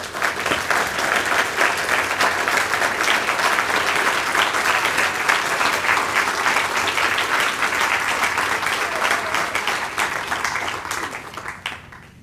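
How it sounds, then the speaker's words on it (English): An audience applauds at a chairman's address, a sustained round of dense clapping that holds for about ten seconds before tapering off. "So I'm going to ask you to give them a round of applause when they stand up."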